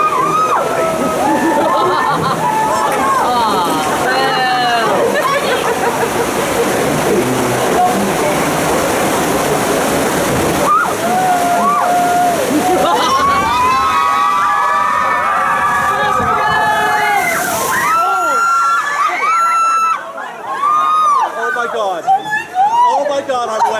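Water crashing and sloshing over a crowded pirate-themed ride boat carrying about nineteen riders, a continuous wash under loud shouting, screaming and excited talk that thins slightly near the end.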